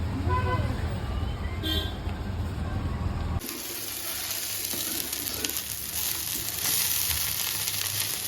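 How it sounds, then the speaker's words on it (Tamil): Vaazhai fish sizzles as it fries in oil, a steady hiss that shifts abruptly partway through, and a voice talks over part of it. "வாழை மீன் ஃப்ரை பண்ணிட்டு இருக்கோம்."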